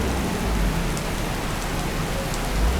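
Light rain falls in a steady, even patter, an unbroken hiss of drops with no voices.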